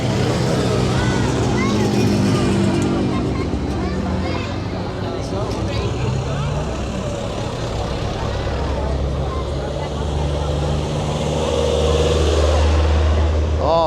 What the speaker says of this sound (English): here come the motorbikes then, and the Land Rovers